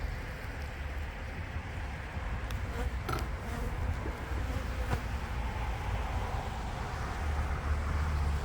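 Bees hum in an apiary where a swarm was housed, a continuous low buzzing drone close by with a few faint clicks and rustles over it.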